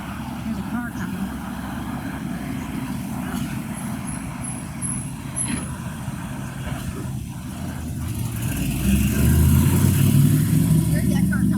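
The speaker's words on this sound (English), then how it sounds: "There's another car coming. It's a nice loud car." A loud car approaches along a street, its engine rumble swelling steadily over the last few seconds above constant traffic noise, with no one talking.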